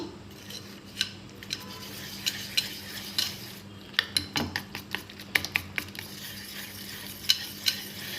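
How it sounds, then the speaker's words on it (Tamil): Batter for an apple crisp is stirred briskly in a bowl until it is as smooth as churned curd, with irregular clinks and scrapes of the utensil against the bowl over a quiet background. "நல்லா கலக்கி எடுத்துக்கோங்க இங்கே பாருங்கள் இது மாதிரி பதத்துக்கு நல்லா கடைங்க"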